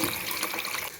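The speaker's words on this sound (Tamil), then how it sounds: "கொஞ்சம் தண்ணி ஊற்றிக்கோங்க" Water pours steadily into a cooking pot for fish curry with brinjal, a continuous hissing splash that stays even from start to finish with no voices.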